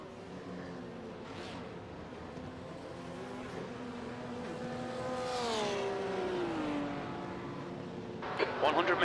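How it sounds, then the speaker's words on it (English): GTE race car engine in the iRacing simulator, revving and shifting with a rising then falling whine that swells louder mid-clip, another car audible near the end, people talking over it. "So that's a GTE racing machine."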